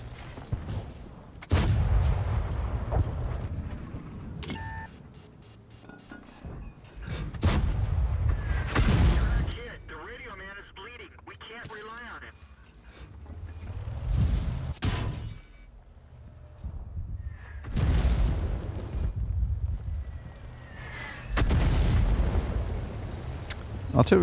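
World of Tanks artillery and tank guns fire in booming bursts, several heavy blasts spread across the stretch with lulls between, while someone talks over the battle.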